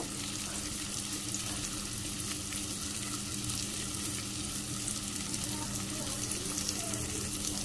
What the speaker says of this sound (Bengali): তারপর ম্যারিনেট করা মাছটা দিয়ে দেব।